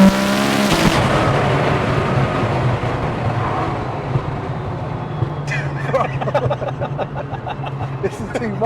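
A 1900hp Nissan GTR running on ethanol pulls hard on a street drive, its engine note climbing steadily as the turbo spools up, loud and continuous inside the cabin with voices talking over it.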